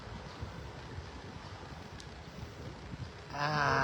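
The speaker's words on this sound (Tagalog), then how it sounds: "Malakas ang hangin, oh." Wind blows outdoors as a steady, fairly quiet broadband rush with low gusty rumbles, and a brief louder burst of sound near the end.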